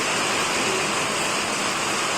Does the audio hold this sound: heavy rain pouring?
yes